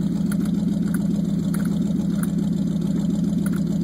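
A 1968 Dodge Dart GT 340 V8 idles steadily and close by, a low, even rumble with a faint lope and some light ticking above it, continuous with no voices.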